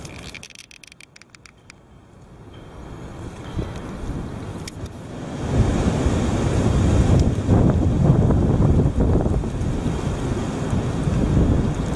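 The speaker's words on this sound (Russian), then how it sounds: "Когда ветер так шумит, кажется, что деревья с тобой разговаривают." Wind blows through trees outdoors, a broad rushing roar that swells from moderate to loud and stays strong, with some gusty buffeting and no voices.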